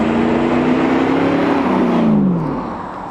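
A 2000 Pontiac Trans Am WS6 engine pulls hard under acceleration, a loud, close V8 roar climbing in pitch for about two seconds before easing off and fading.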